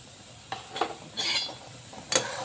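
Semolina is stirred into boiling beetroot juice in a pot, with a few soft scraping strokes and light clinks of a spoon against the pot, faint and close, with no talk.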